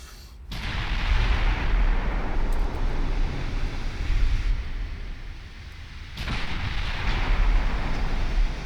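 Naval artillery fire and shell hits in a warship video game: a sharp boom at the start and another about six seconds later, each followed by a long rumbling roar, loud and heavy.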